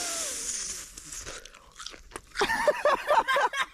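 Close, crisp crunching of crunchy, bacon-flavored food being chewed at a bushcraft survival shelter camp, mostly quiet at first, then a run of rapid rhythmic bites and grinding chews.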